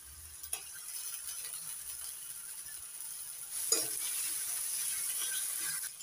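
Garlic and ginger paste frying in a pan for pea chicken keema curry, a faint steady sizzling hiss with a couple of brief scrapes of a stirring spoon, no voices.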